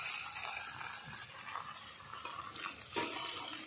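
Vegetables for a Bengali shukto, with plantain, eggplant, drumstick, papaya, bitter gourd, potato and beans, are stirred and sautéed with salt in a pan, giving soft scraping and faint sizzling with a sharper clink of the spoon near the end.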